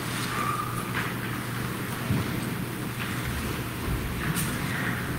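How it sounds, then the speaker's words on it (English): Steady rain falls outdoors around a church on an April Sunday morning, a dense continuous hiss with occasional faint distant rumbles, heard alone without voices. "I believe it is still raining. Yes, it's still raining."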